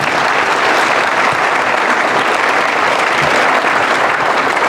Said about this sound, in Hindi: अपने पेरेंट्स के लिए, अपनी आई बाबा के लिए एक ज़ोरदार तालियाँ हो जाए